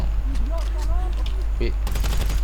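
GTA V Online gunfire, with rapid bursts of shots close by and a heavy volley near the end, over a steady low rumble of game sound and a voice talking.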